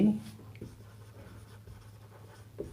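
A pen or marker writes on a board during a Class 10 trigonometry lesson, with soft scratchy strokes and taps that are faint under a teacher's speech.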